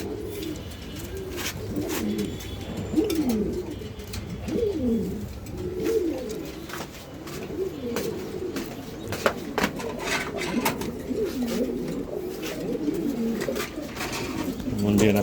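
Pigeons cooing in a loft, several birds giving repeated rolling coos close by, overlapping in a continuous rhythm, with scattered chirps and faint background noise.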